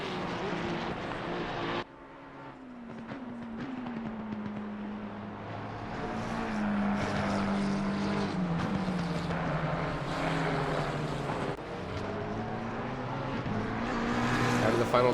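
Engines of a BMW and a Ferrari race car duel on the Paul Ricard circuit in a racing video game, a steady loud drone with rising and falling pitch sweeps, a brief dip near two seconds, with commentary talking over it throughout.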